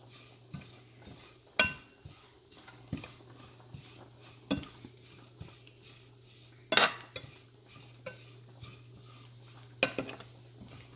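A utensil scraping and stirring tiny prawns in a pan over a soft, steady sizzle of frying, with scattered clinks and taps, close and quiet.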